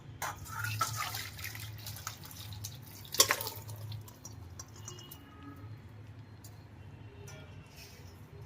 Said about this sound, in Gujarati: રગડા માટે આપણે બટેટા બફાઈ ગયા છે અને આપણે પાણી કાઢી નાખીએ.